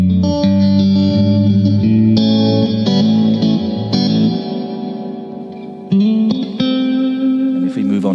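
A guitar is played through a reverb pedal on its plate setting with the tone control adjusted. Chords and single notes ring out with a long, washy tail that stays loud and continuous.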